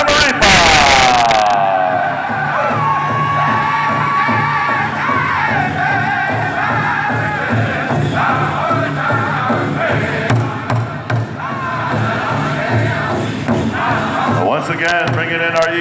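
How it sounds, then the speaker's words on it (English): A large crowd at a grand entry celebration of the Gathering of Nations pow wow roars with loud, sustained cheering and applause. An announcer's voice cuts through at the start, and the crowd noise swells and holds throughout. "Ladies and gentlemen, how about a round of applause for his companion, Pearl Grandma Samaripa."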